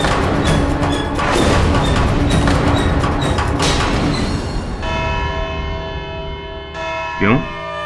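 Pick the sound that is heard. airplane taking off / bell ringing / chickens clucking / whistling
bell ringing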